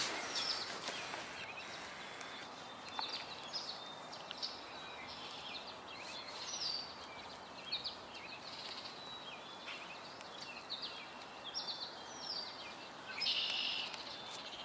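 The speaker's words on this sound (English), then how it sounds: "That does sound like the rattle of a Baltimore oriole." Baltimore oriole rattle call heard in a spring outdoor setting, with several short, dry chattering bursts standing out against a steady wash of other birdsong and ambient noise.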